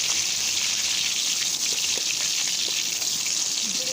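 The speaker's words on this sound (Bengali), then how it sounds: "তেলটা খুব ভালোভাবে গরম হলে 2টা পেঁয়াজ কুচি দিয়ে" Chopped onions dropped into about a cup of well-heated oil sizzle in a steady, dense, hissing fry, close and even throughout, with no voices over it.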